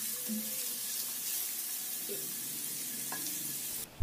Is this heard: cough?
no